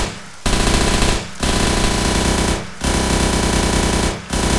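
Sustained automatic fire from a machine gun in the military video game Arma 3, with three long loud bursts separated by brief pauses. No one speaks.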